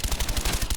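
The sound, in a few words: gunshot in Black Ops 1 video game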